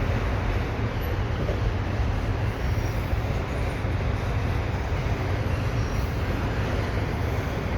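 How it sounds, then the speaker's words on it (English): An eastbound Via Rail passenger train, a P42DC locomotive hauling LRC cars toward downtown Montreal, rushes past at Dorval as a steady, loud roar of wheels and rumble with no break over the whole stretch. "So the Via Rail train was eastbound, had a P42 DC and LRC cars headed for downtown Montreal."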